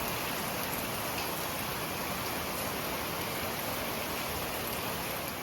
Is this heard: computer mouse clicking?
no